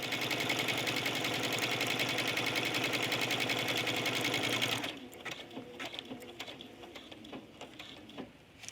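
A sewing machine stitches buttonholes on a trench coat with a loud, rapid, even whir for about five seconds, then stops, leaving faint clicks and handling sounds.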